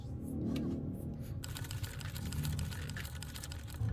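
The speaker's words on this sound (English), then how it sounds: "Let me sew this glove." Rapid mechanical stitching from a sewing machine as a glove is sewn in the horror game True Fear: Forsaken Souls, a steady fast clatter that carries faintly, with a brighter, busier stretch after the opening second.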